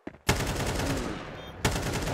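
Rapid gunfire from Counter-Strike 2 during an Americas RMR esports match: two loud, dense bursts with a brief lull between them and no clear speech.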